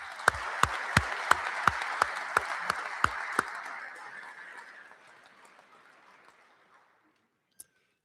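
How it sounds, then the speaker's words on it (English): Applause from a crowd at a police promotional ceremony, dense and steady with sharp thumps from a few close clappers on top, then thinning and fading to silence over the last seconds. "Big round of applause."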